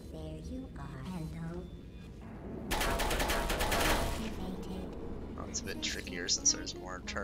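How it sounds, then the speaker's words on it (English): Turrets in the puzzle video game Portal Reloaded fire one rapid burst of about a second in the middle, loud against quieter game sounds, with talking before and after. "Turrets I have to worry about."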